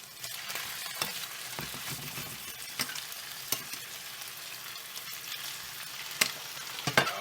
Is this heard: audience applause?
no